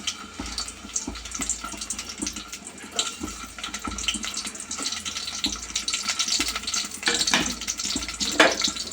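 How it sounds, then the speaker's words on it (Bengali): Chopped garlic, onion and dried chillies sizzle in hot oil for a tomato chutney, a dense steady crackle with occasional louder spits and stirring, close and without talk. "তো সবগুলো উপকরণ খুব ভালোভাবে ভেজে নেব।"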